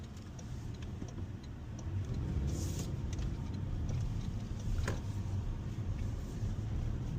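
A Toyota Tacoma pickup cruises in eco mode, its steady engine and road hum heard from inside the cab, growing slightly louder partway through, with no talking.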